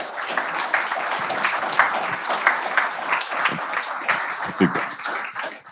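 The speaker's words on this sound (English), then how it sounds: "let's give them a round of applause" A crowd at a real estate expo claps for a panel of speakers, dense sustained applause lasting several seconds with chatter and voices audible through it.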